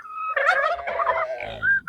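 Turkeys on a small farm kept alongside chickens and ducks gobble in a rapid, rattling burst close by, followed by a few short higher calls near the end.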